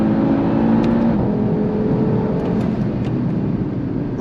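An Audi TT RS engine revs hard toward its red line under full acceleration, a loud sustained droning climb heard from inside the car, with no talking over it.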